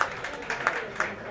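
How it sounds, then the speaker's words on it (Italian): Applause from the stands at an under-16 youth football final, scattered claps coming in short irregular bursts, fairly faint and distant, under a commentator's voice. "ma prende gli applausi dalla tribuna"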